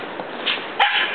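A Labradoodle or Standard Poodle outdoors in the snow gives a short, sharp close bark, with a softer yip just before it.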